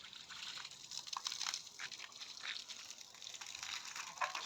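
Water sprays steadily onto the freshly built walls of a new house, a soft hissing splatter that continues for several seconds at moderate distance.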